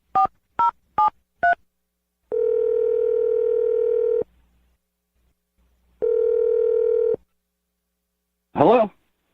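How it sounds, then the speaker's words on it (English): Four short telephone keypad dialing tones in quick succession, then two long ringback tones with a pause between them, followed by a brief burst of a voice answering. "let's dial his phone number"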